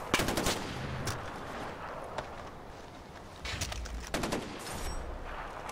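Rapid bursts of automatic gunfire crackle in Far Cry 4 gameplay, with several clustered volleys separated by short gaps over steady background ambience.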